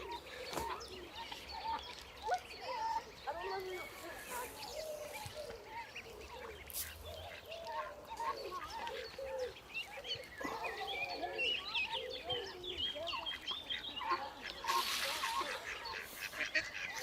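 Ducks and a group of half-grown ducklings on a river give a busy chorus of quacks and peeping calls, moderately close, with a murmur of low voices faintly underneath.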